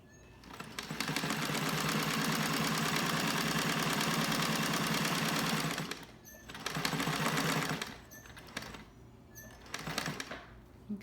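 Sewing machine running steadily for about five seconds while stitching fabric face masks, then stopping and restarting in two shorter bursts, close and fairly loud with no talk.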